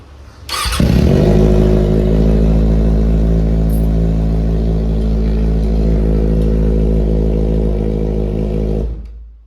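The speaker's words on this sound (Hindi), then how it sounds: "अभी आपको सबसे पहले डीकैट की आवाज़ सुनाते हैं।" A Kawasaki ZX-6R motorcycle with a decat exhaust fires up and holds a loud, raw, rumbling idle with steady revving, close by, then cuts off near the end.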